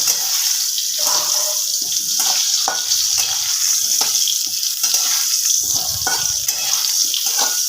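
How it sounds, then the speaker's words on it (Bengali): Cut potatoes fry in hot oil with turmeric in a pan over a low gas flame, giving a steady, close hiss and crackle with occasional scraping as they are stirred and flipped. "আলুটা এক পিট ভাজা হয়ে গেছে আর এক পিট আমি একটু উল্টে নেব"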